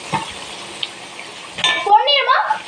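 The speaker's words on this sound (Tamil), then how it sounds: "இப்போ நம்ம நண்டு நல்லா கலந்து விட்டுக்கலாம்" Spoon stirring crab fry in a pan for Chettinad-style nandu varuval, starting quiet with faint sizzling and then a burst of scraping and clinking metal near the end, with speech mixed in.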